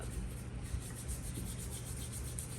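Steady, close rubbing and scrubbing on a welded copper piece being cleaned, a continuous low abrasive hiss with no pauses and no voices.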